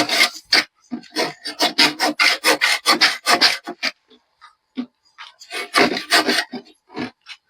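A dull hand saw rasps through coconut lumber in rapid back-and-forth strokes, a rough scraping rhythm that pauses briefly before resuming, close and loud.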